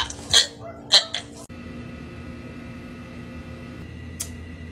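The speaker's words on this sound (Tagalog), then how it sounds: "Tahol kasi ng tahol yung aso." A dog barks close by: three quick, sharp barks in the first second and a half, then a low steady hum, and one last bark near the end.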